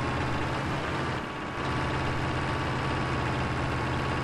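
A tractor's diesel engine runs steadily in Farming Simulator 22, a loud, continuous low drone with a brief dip in level partway through, with no talking.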